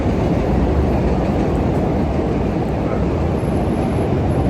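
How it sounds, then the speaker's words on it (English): A loud, continuous rail rumble and roar fills the whole clip, steady and close, like a train rolling past nearby on a street in Chicago. "The train is so loud right here."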